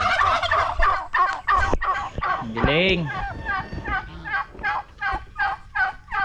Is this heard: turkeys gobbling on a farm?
yes